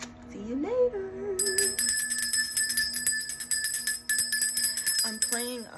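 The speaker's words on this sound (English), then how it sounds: "no, I'll be slamming that bell down like that" A bell being struck during a relaxing harmony session, ringing out with a sustained metallic tone that lingers for several seconds, then is struck again near the end; a voice hums or speaks softly at the start.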